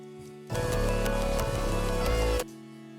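An Ableton Analog synth plays sustained chords, a dense bright pad swelling in after a quiet start and cutting off sharply near the end, close and alone.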